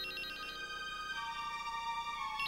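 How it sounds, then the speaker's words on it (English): A cell phone ringtone ringing loud and clear, a steady electronic chiming melody that repeats in a continuous pattern, close and alone with no talking. "she's about to dump it when the phone rings"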